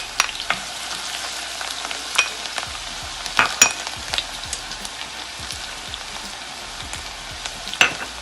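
Onions frying over medium heat in a hot pan, a close, continuous crackling sizzle dotted with sharp pops and spatters scattered irregularly throughout.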